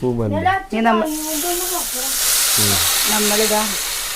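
A loud, steady sizzle erupts as tamarind water hits a hot pan, hissing on continuously while a person talks briefly before and during it.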